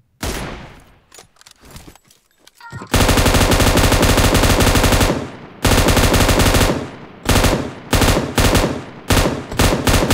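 Rapid automatic gunfire from PUBG Mobile, a battle royale shooter, arrives in loud, dense bursts separated by short pauses, after a quieter opening of scattered shots.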